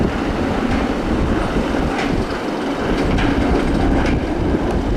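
A roller coaster train on Nemesis Reborn at Alton Towers rumbles past close by, steady roaring and rattling with intermittent clacks along the track.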